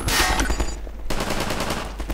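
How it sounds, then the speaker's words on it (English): A grenade explodes in Half-Life 2, a loud, close blast with dense crackling noise that cuts off and then returns as a continuing rumble of gunfire-like bursts. "That was the grenade."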